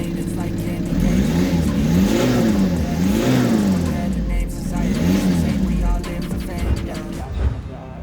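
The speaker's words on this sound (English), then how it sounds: "let's hear the sound of the car now" A Volkswagen Scirocco engine revs repeatedly, its pitch rising and falling in several close, loud surges over a rumbling idle.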